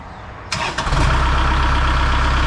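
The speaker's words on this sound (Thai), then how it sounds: "ผมอ่าสตาร์ทดูหน่อย อ มาฟังเสียงเครื่องดูนะครับ" A small tractor engine cranks and catches after half a second, then settles into a steady, loud idle with a low rhythmic thrum.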